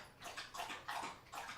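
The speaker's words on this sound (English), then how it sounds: "That's a dog licking up water." A dog laps up water in quick rhythmic slurps, four or five wet splashy licks fairly close.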